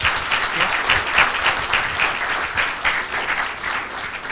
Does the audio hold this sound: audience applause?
yes